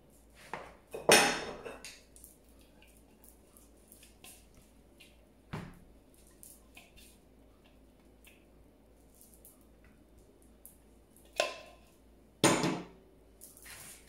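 A spoon mixes coconut, sugar and chocolate in a bowl for a chocolate fondant, giving a few sharp clinks and scrapes against the bowl, separated by long quiet stretches.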